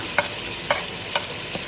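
Chopped tomato, green chili, turmeric and dried coriander go into a hot pan for a ridge gourd (tori) curry and are stirred. Four evenly spaced spoon scrapes sound over a soft, steady sizzle.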